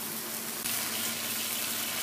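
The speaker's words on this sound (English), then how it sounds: "it's really starting to bubble up and soak in amazingly" Water bubbles steadily in a pan of cooking instant noodles, a constant hissing, fizzing boil heard close up with nothing else over it.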